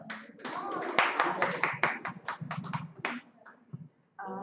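Small audience at a live-streamed meetup claps for a speaker who has just introduced herself: a short round of distinct, close hand claps that tapers off, followed by a voice starting to speak.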